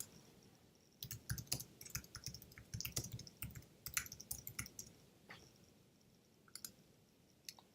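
Quiet, close mouse clicks in image editing software, coming in irregular bursts of single and double taps with a few pauses between.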